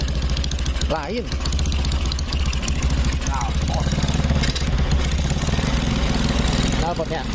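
Honda Tiger motorcycle engine and exhaust running, a loud steady mid-pitched idle with a rapid pulsing beat, close and continuous, with voices talking over it.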